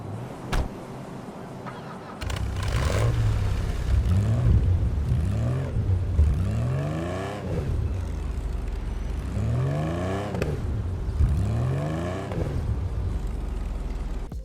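A Mercedes 300 SL-based car in GTA Online revs its engine repeatedly, with several rising and falling sweeps of a throaty, whining exhaust note, loud and close, without talk.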